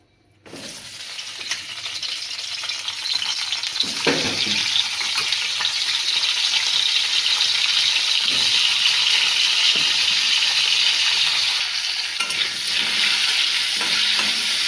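Pointed gourd and potato pieces fry in hot oil, giving a loud, steady sizzle close by that swells after a quiet opening. Occasional stirring clatters sound over the frying.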